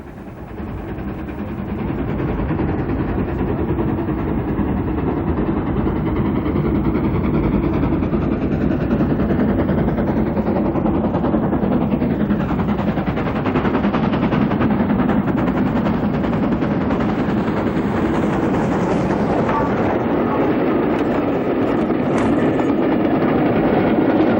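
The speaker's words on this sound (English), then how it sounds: "we see 1306 on a demonstration run, showing once again the method of picking up mail bags by a travelling post office" Steam locomotive 1306, an LNER engine, thunders past on a demonstration travelling post office run that picks up mail bags, with a loud, continuous rumbling roar and rapid rhythmic clatter of wheels sustained close by throughout.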